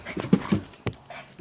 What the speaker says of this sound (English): Look at that little dog.